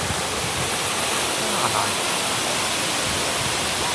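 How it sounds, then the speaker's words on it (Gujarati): Tall waterfall near Kalpeshwar in the Urgam valley, Uttarakhand, roaring as a steady, loud, broadband rush of falling water that fills the whole clip, with no breaks. "બાહુબલીમાં જે ઝરણું આવે ને એટલું ઊંચું ઝરણું છે."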